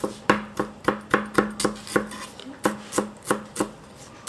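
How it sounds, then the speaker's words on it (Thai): A knife chops fresh coriander on a cutting board in a quick, steady rhythm of about fifteen sharp, close thuds with no talking. "ผักชีก็ล้างให้สะอาดแล้วนำมาหั่นนะคะทุกคน"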